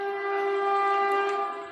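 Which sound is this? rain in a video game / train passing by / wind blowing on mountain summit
train passing by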